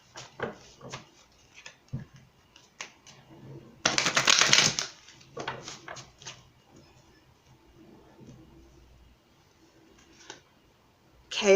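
Oracle cards shuffled by hand in a few short bursts, with one loud close riffle in the middle, set among brief quiet pauses and faint handling noise.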